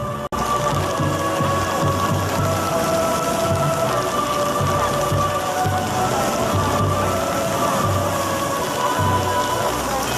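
Steady cold rain pouring down outdoors beside the freezing Tsugaru Strait at a winter purification festival, a dense continuous hiss with low rumbling underneath, loud and unbroken throughout.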